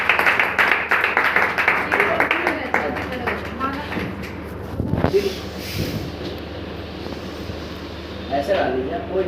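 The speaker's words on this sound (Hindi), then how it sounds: "तालियां" Enthusiastic clapping for award achievers at a celebration event in Delhi, a burst of dense hand claps from a gathered group that thins out, with voices talking over and after it.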